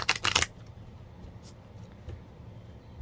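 Tarot cards are shuffled in a quick, close, riffling burst lasting about half a second, after which only faint room noise and a few small soft taps remain.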